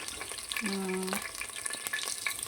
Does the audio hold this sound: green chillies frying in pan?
yes